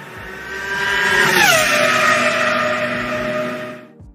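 A Williams Formula 1 V10 race car screams at very high revs, close and loud, its shrill note sliding down in pitch as it passes and then fading in the last second.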